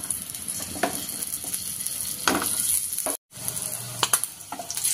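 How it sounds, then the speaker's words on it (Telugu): Eggs fry in oil with turmeric, salt and chili powder, giving a steady close sizzle with a few stirring scrapes and a brief dropout partway through. "ఎగ్ అన్నీ బాగా రోస్ట్గా ఫ్రై అయినండి."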